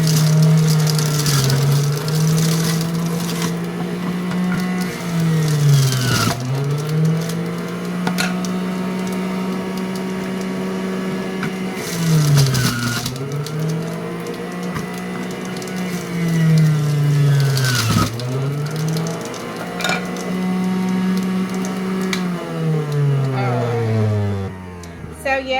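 An electric juicer runs and spins loudly up close, its steady motor whine sagging in pitch several times as produce is pushed in, with crunching bursts and rattles throughout.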